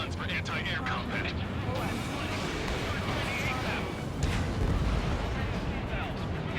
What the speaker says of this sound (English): The Alicorn fired its railguns.